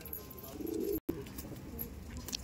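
Pigeons, Madrasi and Punjabi breeds, cooing softly nearby in a low, rolling murmur, with a brief break partway before the soft cooing resumes.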